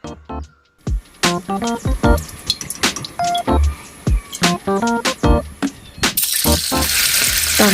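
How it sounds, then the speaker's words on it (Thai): Plain tofu with no flour coating is fried in a pan over medium-low heat. Bright clinks and taps from utensils repeat, then a loud, steady sizzle takes over for the final seconds. "เดี๋ยวเราจะเริ่มจากเอาเต้าหู้ไปทอดก่อนนะคะ เราจะทอดแบบนี้โดยไม่ใส่แป้งนะคะ"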